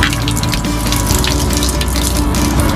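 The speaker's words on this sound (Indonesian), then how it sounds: "Lalu kita hidupkan air mengalir, basahkan kedua telapak tangan." Tap water running into a sink for handwashing during a hygiene demonstration, a loud, steady, close splashing gush that carries through the whole clip with no voices.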